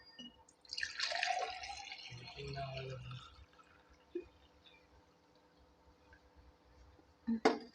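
Lemon juice poured from a container into a tumbler, a soft splashing trickle of liquid near the start followed by quieter drips and a few small clinks at the end.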